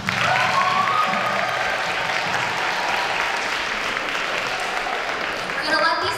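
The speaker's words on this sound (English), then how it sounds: "let's give them a round of applause" An audience applauds loudly and continuously, a dense wash of clapping that holds steady throughout.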